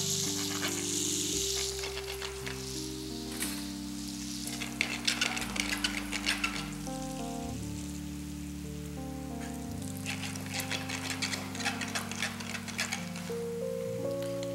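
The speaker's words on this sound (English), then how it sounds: "When it's been heated up nicely, shallow fry the product" Veal pieces shallow fry one by one in a preheated pan, producing a steady, crackling sizzle with bursts of spitting, heard alongside continuous background music.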